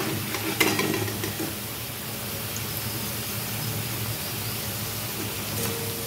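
Drumstick flower fritters coated with Maggi fry in hot oil, a steady close sizzle and hiss with a few faint clicks of utensils; no talk.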